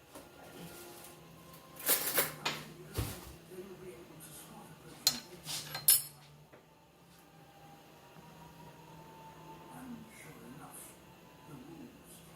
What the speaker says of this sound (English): I'm going to get a spoon.